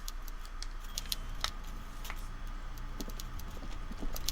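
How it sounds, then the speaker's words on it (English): A typewriter in the Disco Elysium video game clatters away with irregular, light tapping keystrokes over a low background hum, with no one speaking. "Everard Clare clatters away on his typewriter, willfully indifferent to your presence."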